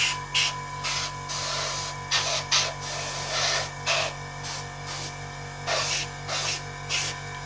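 An airbrush spraying a thin coat of paint over a scale F-4 Phantom model, close hissing bursts in short, regular pulses over a faint steady hum, without talking.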